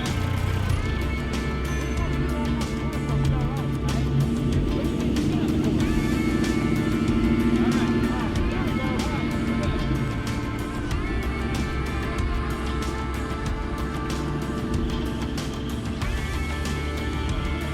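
A V8 muscle car makes a timed race run with a steady, loud engine roar that holds for the whole stretch, and people talk over it.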